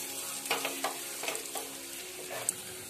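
Kashmiri chilli powder and garam masala stirred in a frying pan for a Kerala-style prawns roast, with a steady sizzle under a series of soft scraping strokes at an irregular pace, close by and fairly quiet.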